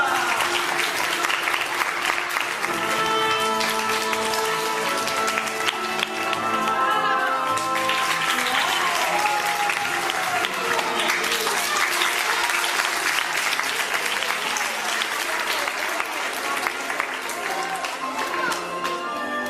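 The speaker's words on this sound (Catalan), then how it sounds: "Un aplaudiment per la Manolita!" A circus audience applauds a performer, Manolita, in a sustained dense wash of clapping that lasts throughout, with voices and music-like tones mixed underneath.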